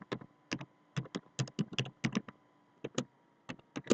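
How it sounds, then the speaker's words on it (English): Keystrokes on a computer keyboard while entering a chart title in a spreadsheet, quick irregular clicks in short bursts, close and fairly quiet, with no talking. "Maybe let's type something."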